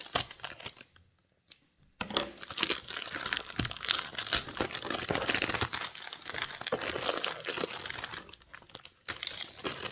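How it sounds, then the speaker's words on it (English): Slate stone picture frames being unboxed, with plastic packaging crinkling and crumpling almost continuously at close range, broken by a short pause early on and a brief gap near the end. "Trying to be careful with the packaging because I want to make sure that I don't damage the Slate frames"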